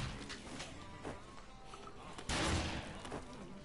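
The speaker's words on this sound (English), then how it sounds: "now he's shooting at me" Otis opens fire in Dead Rising, and quiet gunshots and thuds come in a loose series with one sharper, louder burst near the end, partly under a muffled voice.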